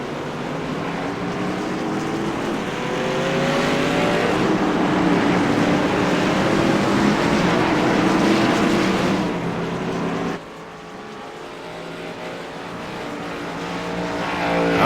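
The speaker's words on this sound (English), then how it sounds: "See these drivers making their pit stop right here." Race cars in a WFO Race League event pulling through the pits, a loud, continuous engine roar with sweeping rises and falls in pitch, dipping briefly near the end before building again. No voices are heard.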